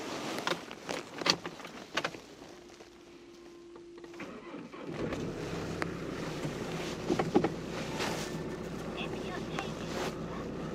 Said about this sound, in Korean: 시동 소리 굉장히 양호하게 잘 걸리고 있는 차량이고요